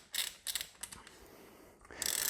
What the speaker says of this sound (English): we can remove the bolt that holds the tensioner damper in place.